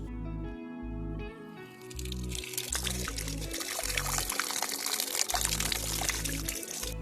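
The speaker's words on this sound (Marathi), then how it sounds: "त्यासाठी ही भाजी धुवून घेते." Ambadi leafy greens being washed by hand in water, with pouring, splashing and squishing sounds over a low rhythmic background beat.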